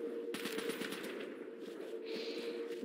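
Rapid automatic gunfire from World at War zombies mode rattles on steadily, moderately loud and continuous, with no talking.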